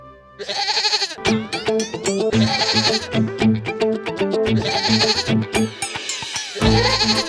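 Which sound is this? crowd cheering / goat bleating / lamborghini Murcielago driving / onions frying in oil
goat bleating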